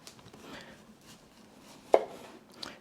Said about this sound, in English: just use a sharp chef's knife and just trim it with the knife